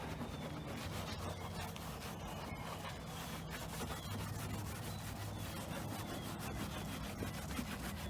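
Dried love bugs are scrubbed off a car's surface with Dawn dish soap, a steady, continuous rubbing and scouring sound, close but fairly soft, with no talking.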